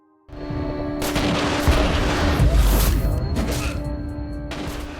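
Gunfire from a gangster film fight scene, in which one man storms a hideout and guns down the boss's henchmen, bursts in loud and dense, with rapid shots and heavy booms running together almost without a break.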